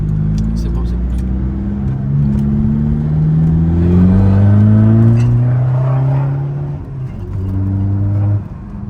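A car engine in a video game revs up and down in a rough, rising drone, loud and close, settling briefly before dropping off near the end.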